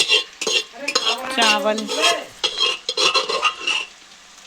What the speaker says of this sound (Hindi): यहाँ पे बने हैं फ्राइड राइस, फ्राई हो रही है प्याज